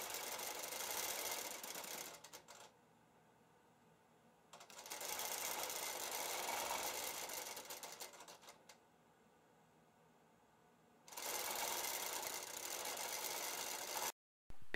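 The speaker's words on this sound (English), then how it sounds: "When the machine is stopped, stitching stops and the machine will wait for you to move it again." Sewing machine stitching in bursts: three runs of rapid, even mechanical whirring and clatter, each lasting a few seconds, separated by near-silent pauses while the machine waits, fairly close and without speech.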